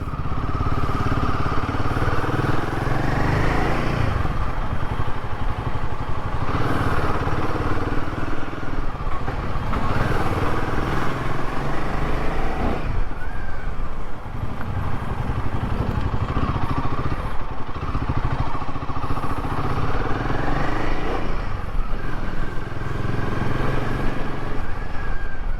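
Royal Enfield Himalayan 450 motorcycle being ridden, its engine droning continuously with repeated rises and falls in pitch as it shifts and accelerates, loud and close throughout with wind and road noise.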